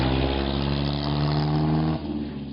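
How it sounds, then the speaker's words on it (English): A classic car engine drones loudly and steadily at close range as it drives along the road toward Mandalay, then eases off in pitch near the end, with no voices. "these classic cars have roared through valleys"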